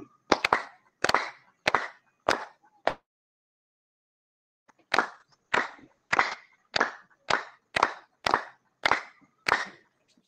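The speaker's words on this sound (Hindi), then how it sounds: "कमर को लचीला करेंगे और ताली बजाएंगे 15 बार" Claps from a group yoga session, in two sets: five sharp, close, evenly spaced claps, a pause, then ten more in a steady rhythm, with no talking.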